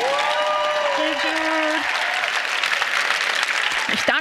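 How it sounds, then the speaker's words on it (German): Applause from a live audience at a TINCON Berlin 2017 stage talk for the animator coldmirror, a steady roar of clapping filling the hall, with a voice speaking briefly over it. "Also jetzt nochmal großen Applaus für Code Mirror."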